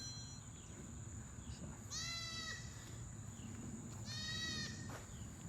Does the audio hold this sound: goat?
yes